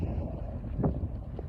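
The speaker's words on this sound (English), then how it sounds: "And it's really, really windy," Low, rumbling wind buffets the microphone steadily throughout at dusk in Lincoln County, Oregon, with a couple of brief gusty swells, fairly loud and close.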